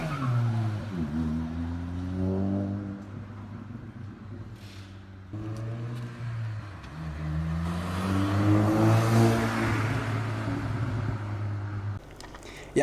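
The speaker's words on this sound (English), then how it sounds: "He sent in a couple exhaust clips." A lowered GTI's exhaust revving in repeated rising and falling sweeps, loud and close, each climb to higher revs followed by a drop back to a steady idle, with no talking.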